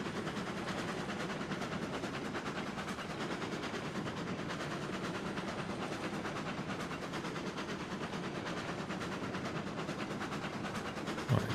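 A train rolls along track in a railroad video game, a steady quiet rumble with faint rhythmic rattling and clatter throughout, no voices.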